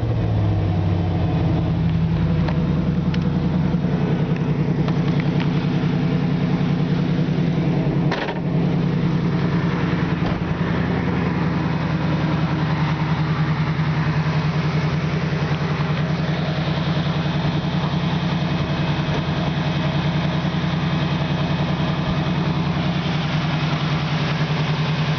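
A 1973 Camaro Z28 V8 idles steadily and close by, a low even rumble that holds for the whole stretch with only a brief blip partway through and no talk over it.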